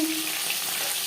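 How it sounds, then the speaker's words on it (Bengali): Fish sizzling in hot oil in a pan, a brief, loud and even frying hiss heard close by with no voices. "মাছ ভাজা হয়ে গেছে"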